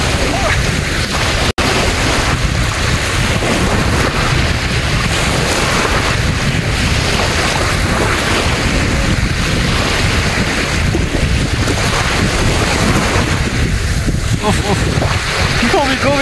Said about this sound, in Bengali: খুবই চমৎকার এই ইয়াটা, পানির ঢেউটা দেখতে খুবই ভালো লাগতেছে, যেমন কক্সবাজারের ঢেউ